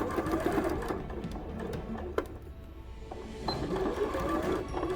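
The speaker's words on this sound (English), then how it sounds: "So again, back stitching forward." A sewing machine back stitches while making a fabric jewelry pouch, a steady close whirring chatter of the needle running continuously, with a brief click partway through.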